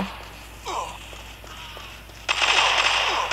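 Gunfire in the mobile FPS game Crossfire Legends, a short burst followed by a louder, sustained rapid volley of automatic fire.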